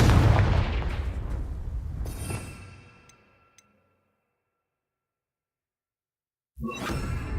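A Confringo fire spell cast in Hogwarts Legacy, a video game: a loud booming blast with whooshing that fades over a few seconds into silence, then a fresh burst of noise begins abruptly near the end.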